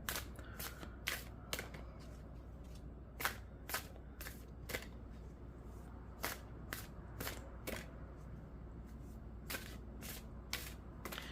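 A deck of animal oracle cards is shuffled quietly close by, with crisp, irregular riffling snaps spread over several seconds against a hushed background.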